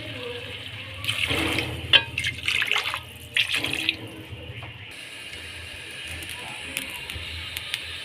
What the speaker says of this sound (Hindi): अब 2 गिलास में इसमें पानी डालूँगा।